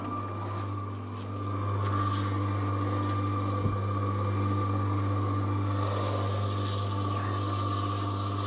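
Water gushes steadily from a hose into a sand and cement mix under a constant low mechanical hum, rising in volume after the first couple of seconds.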